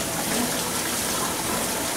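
Water gushes steadily from a tap to rinse a soy milk maker after making tofu at home, a continuous close splashing flow running the whole time with no talk.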